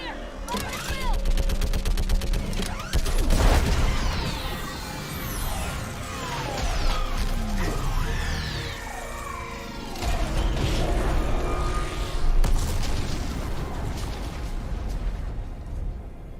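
Orbital strike explosions and heavy weapons fire in the Mass Effect video game during a fight with a live Reaper on Rannoch: a sustained barrage of blasts, rumbles and gunfire, loud and continuous with sweeping effects.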